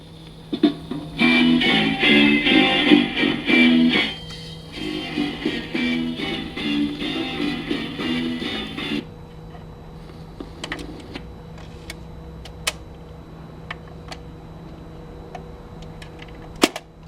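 A worn, badly scratched record playing at 45 rpm on a Philco-Ford stereo record player, loud crackly tinny music for about nine seconds, then stopping, leaving faint clicks and pops.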